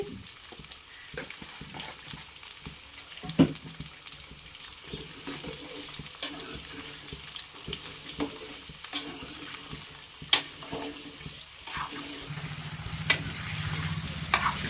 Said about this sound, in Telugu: మనం మధ్యలో తిప్పుకుంటా బాగా బ్రౌన్ కలర్ వచ్చిన వరకు వేపుకోవాలండి ఎర్రడాలుగా ముక్కలు